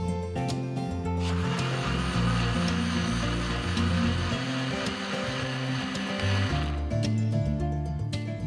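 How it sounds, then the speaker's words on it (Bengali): An electric blender whirs steadily for about five seconds, churning mint lemonade ingredients with a pinch of iodized salt. The motor starts and stops abruptly over continuous background music. "এই উপকরণগুলো আমরা কিন্তু একসাথে ব্লেন্ড করে নিব সবার প্রথমে।"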